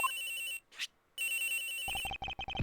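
A cell phone rings from inside a locker in the Ace Attorney Investigations game, a bright electronic ringtone pausing briefly and then resuming in rapid repeated pulses.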